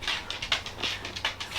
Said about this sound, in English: These dogs tonight, they are something extra.